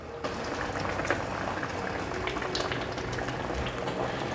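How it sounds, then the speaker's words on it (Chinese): Tofu stew with wide glass noodles simmering over medium-low heat, a steady soft bubbling with scattered small pops, even and fairly quiet throughout. "转中小火，慢慢的炖煮"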